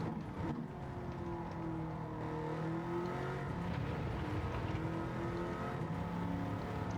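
A Bugatti Veyron on a racing lap around Sardegna Road A in Gran Turismo 7, its engine holding a steady high drone with pitch rising and falling through gear changes, continuous and fairly loud.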